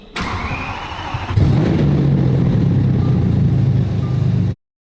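A damaged Lamborghini SVJ engine cranks briefly and then fires, settling into a loud, steady low rumble at idle that continues for several seconds before cutting off abruptly, with no talk.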